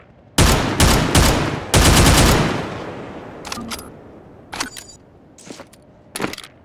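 Rapid bursts of rifle fire from an original-style rifle, a predecessor of the Overwatch pulse rifle, in the VR game Half-Life: Alyx: a loud string of shots early on, then sparse, quieter single shots after a pause.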